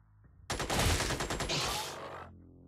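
Sustained burst of gunfire from the squad-tactics video game Xenonauts, a dense loud volley of rapid shots lasting nearly two seconds before fading into a low rumble.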